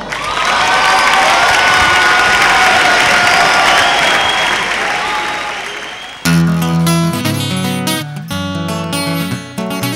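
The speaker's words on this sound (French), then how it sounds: "mesdames et messieurs, sous vos applaudissements" A concert crowd claps and cheers loudly to welcome the performer, a roaring mix of applause and shouts that cuts off after about six seconds into music.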